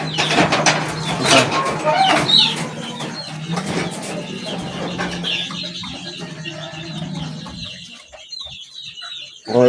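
Chickens, including a stressed gamecock being nursed back to health, cluck and squawk repeatedly close by on a farm, with quieter bird calls and some voices in the background.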